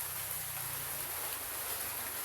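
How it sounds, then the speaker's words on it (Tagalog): Steady rain falls in a continuous, even hiss with no other sounds on top. "oh, umuulan na naman"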